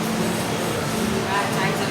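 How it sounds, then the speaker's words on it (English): A roller coaster train rolls into the Busch Gardens Tampa station with a steady, close rumbling roar, under people talking nearby. "here comes our train"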